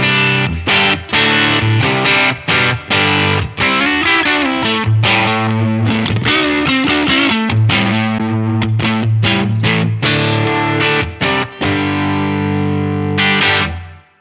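Electric guitar played through a capture of a vintage 1965 Fender Deluxe Reverb amp at its highest gain setting: loud, heavily distorted strummed chords and choppy stabs with short breaks, ringing out at the end.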